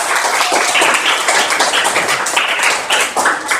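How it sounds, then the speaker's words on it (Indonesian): Schoolchildren in a classroom clap together during a lesson on honesty and trustworthiness, a dense, steady patter of many small hands lasting a few seconds, close and fairly loud with no talking. "tepuk tangan kalau bahagia"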